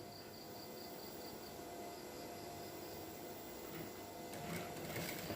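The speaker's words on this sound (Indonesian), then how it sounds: "kalau di ujung itu diputar aja pakai tangan, putaran mesinnya" Sewing machine running steadily while stitching a shirt collar, a continuous fast whir with a faint rhythmic ticking, heard without talk.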